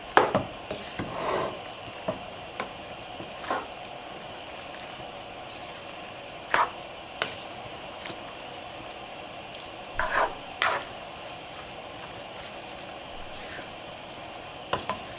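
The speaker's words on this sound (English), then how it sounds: "Let's go ahead and mix all of this together." Mexican spaghetti with tomato sauce being stirred together in a pot, giving scattered soft scraping and wet squelching bursts at an irregular rhythm, fairly faint and close, with no talking.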